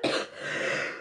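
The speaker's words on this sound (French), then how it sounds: "J'ai une toux continue qui m'empêche de dormir." A single harsh, raspy cough, close and loud, trailing into a breathy rasp.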